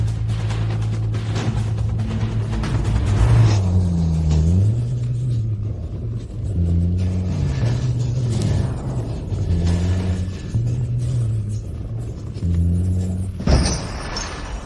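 A car engine that has been tampered with rumbles and revs repeatedly in uneven surges, rising and falling in pitch, close and fairly loud, and ends with a sharp clatter.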